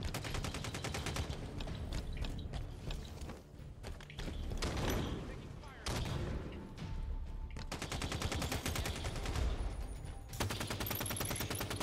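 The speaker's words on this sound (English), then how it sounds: "There's grenades going off everywhere" Rapid gunfire and explosions from grenades going off everywhere in the multiplayer shooter Halo 5: Guardians beta, dense, continuous bursts with a few brief lulls, sustained throughout without voices.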